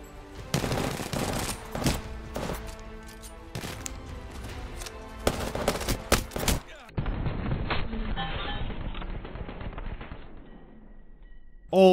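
Hip-fire gunfire in the video game Apex Legends, several loud bursts of rapid automatic shots in the first half, followed by sustained mixed game noise that fades out before a final loud hit.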